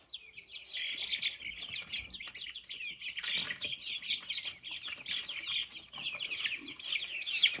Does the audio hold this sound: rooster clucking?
yes